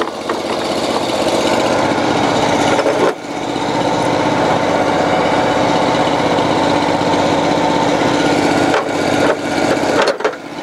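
Engine of a cold water sewer jetter warming up, a loud, steady, rough mechanical roar running nonstop with a few brief dips and clunks.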